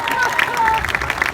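A comedy show audience in Casablanca bursts into brief clapping and cheering, loud and close, with voices mixed into the applause.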